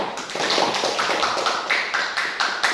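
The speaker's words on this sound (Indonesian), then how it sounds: "Oke, tepuk tangan dulu" Students in a classroom give a short burst of quick, overlapping clapping that carries at a fairly even level for a couple of seconds.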